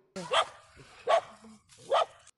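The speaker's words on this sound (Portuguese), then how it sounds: "Resgate feito com a ajuda da cadelinha que aparece latindo no vídeo, em desespero." A small female dog barks in distress, three sharp yelping barks evenly spaced and close, with faint whimpers between them.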